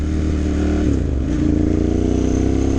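A 2009 Ducati M1100 Monster with an aftermarket carbon fiber exhaust runs close by, a throbbing mid-pitched twin-cylinder note that dips briefly and then settles into a steady, slightly higher pulse.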